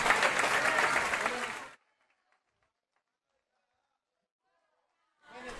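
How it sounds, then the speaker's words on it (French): A Bible study audience gives loud, dense applause for visiting brothers and sisters from Spain; the clapping cuts off abruptly into near silence, then swells back in at the very end. "Un fort applaudissement pour les frères et sœurs qui viennent d'Espagne"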